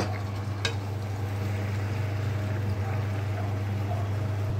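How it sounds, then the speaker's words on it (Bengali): Potatoes stir-fry in a pan with a low, even sizzle and a constant background hum, with a soft knock near the start and no talking. "এই যে এবার এটাকে ভালো করে কষানো হয়ে যাবে"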